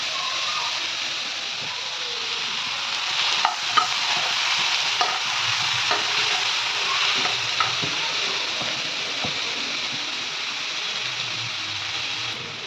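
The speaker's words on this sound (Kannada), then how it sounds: "ಸೊ ನಿಧಾನ ಫ್ರೈ ಮಾಡ್ಕೋಬೇಕು, ಸಾಫ್ಟಾಗಿ ಹಾಕಬೇಕು" Ingredients fry slowly in a pan with a continuous, even hiss and scattered small ticks and scrapes from stirring. The sound is close, with no speech.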